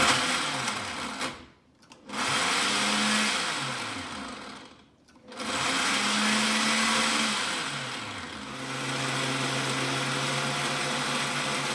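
A Nutriblender whirs loudly while blending a vitamin smoothie of lemon, fromage blanc and juicy fruit, a harsh motor drone in three bursts with brief pauses and pitch dips as the motor settles; no talk.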